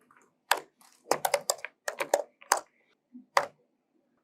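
Keys tapped on a computer keyboard while a command is entered at a terminal, in short irregular bursts of clicks with pauses between them, fairly close and with no one speaking.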